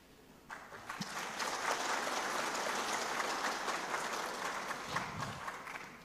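An audience applauds during a political speech at a national working meeting, a swelling wash of clapping that builds, holds steady and fades toward the end.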